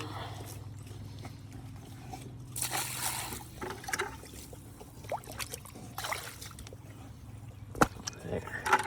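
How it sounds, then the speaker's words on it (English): Water sloshing and trickling as an animals' water bowl on a farm is dumped out and refilled with fresh water, in irregular splashes and pours against a low steady hum. "Looks like I need to dump out these guys' water bowl, get them some fresh water."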